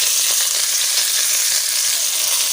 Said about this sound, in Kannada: ಇವಾಗ ನಾವು ಇದನ್ನು ಚೆನ್ನಾಗಿ ಎಣ್ಣೆಯಲ್ಲಿ ಫ್ರೈ ಮಾಡಿಕೊಳ್ಬೇಕು